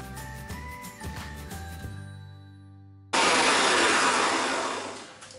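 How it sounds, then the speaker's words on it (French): Electric mixer whipping egg whites for a pineapple-coconut entremet, a loud sustained whirring roar starting abruptly after a lower humming tone, steady and close with no talking. "Mon sirop est à 100, j'allume mon batteur."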